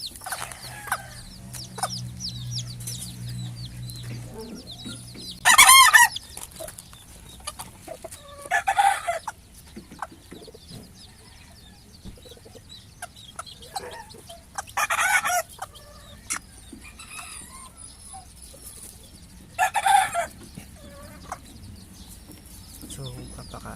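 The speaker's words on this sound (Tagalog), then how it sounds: "Pakain na tayo ng mga manok." Bantam chickens cluck softly in the background while a rooster crows several times at intervals, loud and close; a person talks at moments between the calls.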